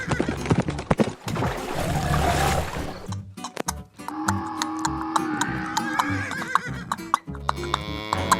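Cattle moo over a noisy farm-diorama scene, with long low lowing calls that rise over clattering, hoof-like knocks and a busy background, and no talk.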